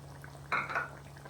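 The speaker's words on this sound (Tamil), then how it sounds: "இப்போ நம்ம தேங்காய் பால் சேர்த்துக்கலாம்" Coconut milk splashes briefly into a simmering chicken curry, a short close pour over a low steady hum.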